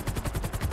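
Rapid bursts of gunfire in GTA 5 roleplay play as an evenly spaced automatic volley, loud and dense against a busy game background, with no talk.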